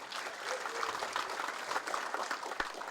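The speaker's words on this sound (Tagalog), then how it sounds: "Medyo maruya itong palakpak." Applause from a crowd at an airport inauguration ceremony in Busuanga, a steady patter of many hands clapping at a moderate distance, with a few sharper claps standing out and no speech over it.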